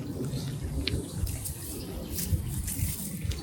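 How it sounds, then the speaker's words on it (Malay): Water runs from a tap at a rented house in a steady, soft stream, with a few faint clicks and knocks scattered over the flow. "Okey, sekarang ni kita nak"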